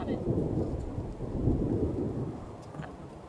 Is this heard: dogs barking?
no